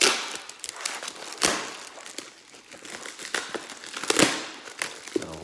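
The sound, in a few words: unwrapping plastic packaging of cutlery set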